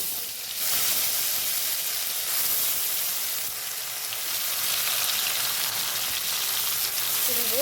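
Black cumin seeds and hilsa fish pieces sizzle steadily in hot oil, a continuous bright hiss that swells and holds at close range with no voices.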